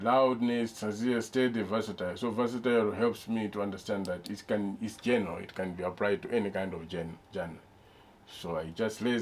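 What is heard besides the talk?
No everyday noise stands out behind the speech.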